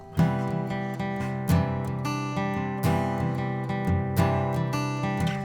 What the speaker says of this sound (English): This is a guitar track